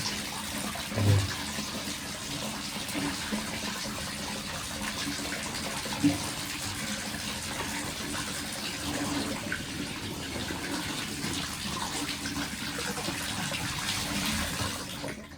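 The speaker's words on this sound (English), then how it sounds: "I'm not gonna wash it completely" A sock is washed by hand under running tap water in a hotel room, a steady close rush of water with a few brief knocks, alone with no talk.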